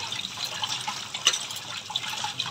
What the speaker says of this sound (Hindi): बहुत अच्छे से पूरा मसल मसल के धोइए फ्रेंड्स इसमें बहुत गंदगी रहता है